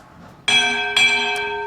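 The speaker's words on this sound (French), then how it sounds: "On vient d'entendre la cloche, les amis." A bell rings twice in clear succession, the second strike a half second after the first, each leaving a long bright metallic ring that sustains and slowly fades, heard alone with no talk.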